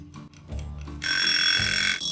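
A mechanical room timer rings a loud, continuous metallic bell for about a second, cutting in after some soft clicks and handling noise and stopping briefly near the end.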